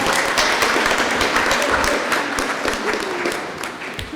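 Audience applause at an awards gala ceremony, dense sustained clapping from a large crowd that holds steady and then begins to fade toward the end, with no talk over it.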